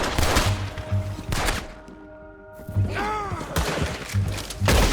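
Several loud, close gunshots ring out in a Red Dead Redemption 2 fight against a tank. Sharp cracks come in clusters with a brief lull midway, where a ringing metallic whine rises and falls.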